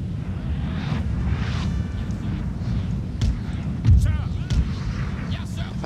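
Artillery fire in the 1805 European Campaign video game, distant cannon booms over a rumbling battlefield, with several heavier thuds near the end.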